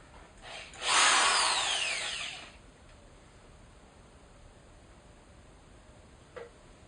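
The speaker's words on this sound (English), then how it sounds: "Now I'm ready to drill." Power drill with a 3/8 inch bit boring a hole into a touch lamp, a bright high whine lasting under two seconds that fades off, followed by quiet and one small click.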